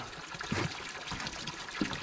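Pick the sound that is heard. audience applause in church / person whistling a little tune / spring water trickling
spring water trickling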